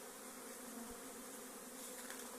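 A swarm of honey bees flies into a forest, making a faint, steady buzzing drone heard from a distance outdoors.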